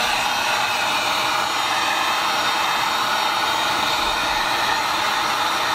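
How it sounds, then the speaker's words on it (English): A heat gun blows a steady, loud airy roar while heat-sealing EVA foam on a War Machine cosplay helmet, a continuous hiss with no breaks and no talking. "and then just take a heat gun and heat seal it"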